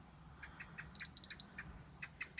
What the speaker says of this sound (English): We've got that one singing, and I think we've got a blackbird or something trundling away up the top.